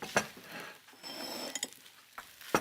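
Sticky noodles being stirred through in a pan, with soft scraping, rubbing and an occasional utensil clink against the pot, fairly quiet and close.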